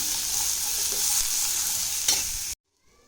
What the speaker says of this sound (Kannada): ಇದು ಚೆನ್ನಾಗಿ ಗೋಲ್ಡನ್ ಬ್ರೌನ್ ಬರೋವರೆಗೂ ಸ್ವಲ್ಪ ಹುರ್ಕೊಳ್ಳಿ.